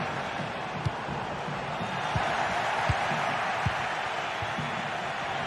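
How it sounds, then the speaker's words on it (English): Steady stadium crowd roar in a football video game, a broad continuous wash of many voices with occasional faint thuds, sustained at an even level throughout. "The crowd certainly think so. Just listen to them."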